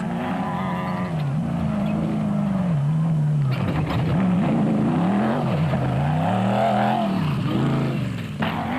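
Regent Racing Bat race car with a 5.7-litre Corvette engine roars past during an endurance race, a loud, continuous engine note rising and falling in pitch as it revs through gears close by.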